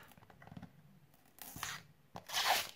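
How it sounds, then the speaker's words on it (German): Protective plastic film peeled off the display of an ISDT D2 dual charger, with soft crinkling and a couple of louder tearing rips toward the end, close and quiet. "versuche die Folie abzuziehen"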